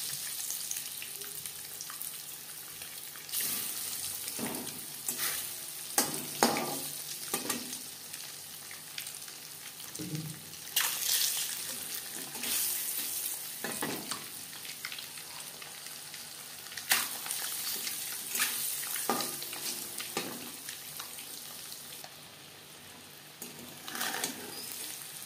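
Eggs frying in a pan for egg curry give a steady soft sizzle throughout, broken by occasional spatula scrapes and clinks, with no talking.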